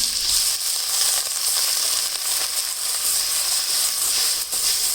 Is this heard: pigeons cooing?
no